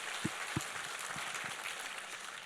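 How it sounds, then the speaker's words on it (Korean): A Korean church congregation applauds in praise during a sermon, producing soft, continuous clapping with a few distinct claps near the start, heard from a distance and without talk. "우리 하나님께 감사와 영광의 박수를 드리겠습니다"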